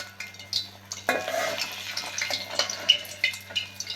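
Jute leaf chops eased into hot oil for frying, with soft sizzling under irregular utensil clinks, scrapes and pan knocks, all fairly close and busy throughout.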